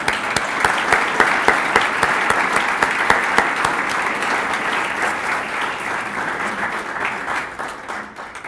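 An audience at an innovation summit applauds to welcome a speaker, with steady, dense clapping from many hands that holds strong for several seconds before gradually thinning out.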